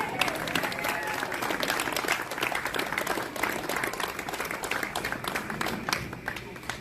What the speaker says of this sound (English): how about a round of applause for both of these great teams?